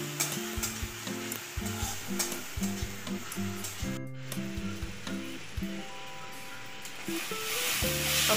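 Spice mixture being sautéed in a pan for a raw banana kofta curry, a constant loud sizzle with repeated rhythmic spoon scrapes, close up, with a faint melodic background sound underneath.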